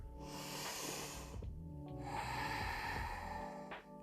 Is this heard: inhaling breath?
yes